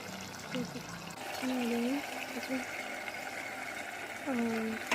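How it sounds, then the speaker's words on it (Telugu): Water is poured in a steady splashing stream into a covered pot of cooking potato curry while a person talks over it now and then. "కొద్దిసేపు 5 మినిట్స్ మూత తీసి కొన్ని వాటర్ వేయాలి"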